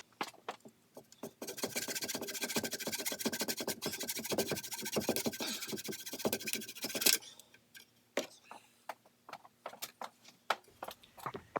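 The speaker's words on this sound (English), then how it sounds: "I'm going to cut this off with a hacksaw" A hacksaw cuts through a plastic heater hose quick connector on a 1999–2006 GM vehicle: steady, rapid rasping strokes for about seven seconds, then slower scattered scrapes and taps, close and fairly quiet.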